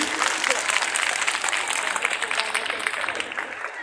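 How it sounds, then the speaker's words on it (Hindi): An audience at a school Sanskrit event, a Gurukul vidyapeeth program, claps steadily in a lively, dense burst of applause with a voice faintly under it. "एक बार ताली बजा दें आप लोग।"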